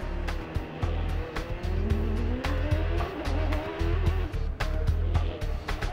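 Race car engine of the number 20 car roaring through the pack, loud and close with sharp revving, gear-change bursts and brief tire squeals, other cars buzzing around it.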